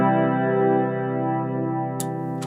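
Guitar amplifier with reverb effect engaged, a sustained harmonically rich chord ringing out and slowly decaying with a spacious tail, followed by brief bright pick attacks near the end.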